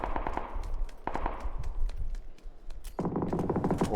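Gunfire in the game PUBG: rapid automatic bursts crackle in clusters, with sharp single shots between and a dense sustained volley at the end, alone with no talk.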